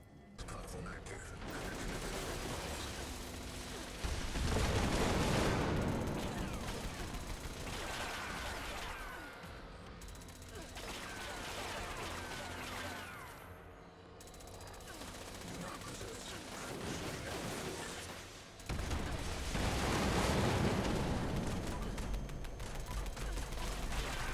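Pepper shaker weapon with furious and limb-damage mods firing in Fallout 76, bursts of rapid gunfire in several long volleys separated by brief lulls, loud and dense, with talk at times.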